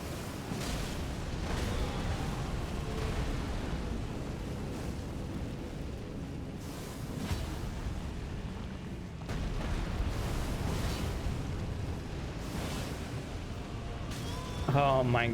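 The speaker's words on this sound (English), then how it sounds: "I'm too busy worrying about the dang random explosions" Random explosions go off in the video game Elden Ring: Shadow of the Erdtree as repeated booming bursts over a constant rumbling din, with a player's voice talking over the game sound.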